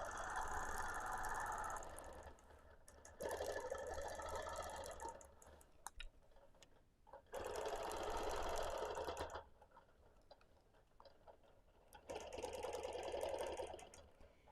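A sewing machine stitches a quilt in bursts, its rapid whirring clatter starting and stopping several times with quiet pauses between runs.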